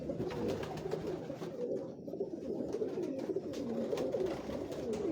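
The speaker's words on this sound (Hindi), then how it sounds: "ये डब वाले कबूतरों में से जी मेरी एक ब्रीड है जिनको हम टाइगर कबूतर कहते हैं जी" Tiger pigeons, a spotted breed, coo steadily on a Lahore rooftop, soft overlapping calls close by that blend into a continuous murmur with no voices.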